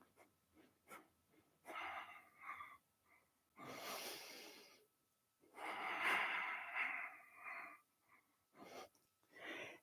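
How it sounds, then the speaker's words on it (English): Long, deep breathing during a Kundalini yoga exercise, slow airy inhales and exhales in close, quiet waves with short gaps and a few sharper nasal sniffs. "just do long, deep breathing here"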